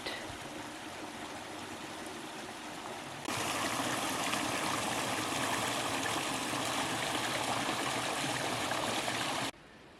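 A small autumn woodland creek flows with a steady, close rushing trickle that grows louder partway through and then cuts off abruptly near the end.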